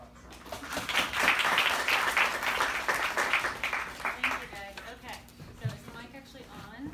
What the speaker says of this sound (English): Let's give her a quick hand of applause.